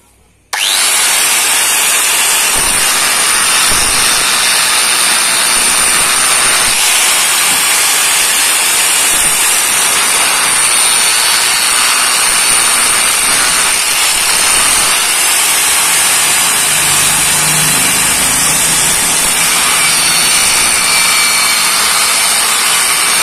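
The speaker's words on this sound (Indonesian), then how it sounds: "Caranya digerinda bagian sini ya." Angle grinder grinding down a modified water pump part during a pump service, a loud continuous hissing grind that runs steadily for over twenty seconds with no talking.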